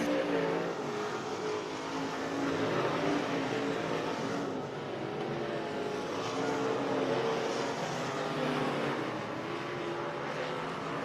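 Race cars of the KR Cup run on the oval at RPM Speedway on the final lap, a continuous loud engine roar that swells and eases as the pack circles, with no voices.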